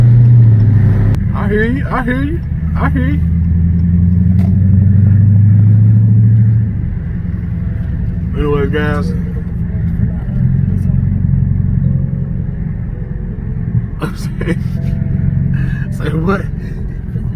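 The engine of a Mopar Scat Pack car rumbles deep and close, swelling and easing a few times, while people talk over it now and then.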